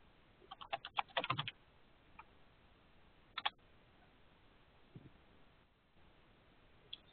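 Computer keyboard keys click in a quick burst as a short command is typed, followed by a few scattered single taps, faint and close with no talking.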